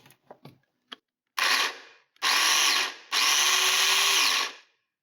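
A few small clicks, then the motor of an electric blender whirs loudly in short bursts, the last run sustained for about two seconds before cutting off.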